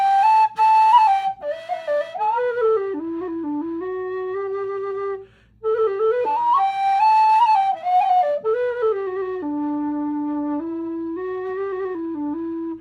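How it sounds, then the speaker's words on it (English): A low D whistle, non-tunable, plays a slow, lilting melody alone, low and breathy, notes gliding and sustaining, with a brief pause midway before the tune resumes. "this is a non-tunable whistle"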